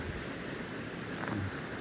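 Steady rain falls over a village fishing area, a dense even hiss of drops on surfaces with no breaks and no voices.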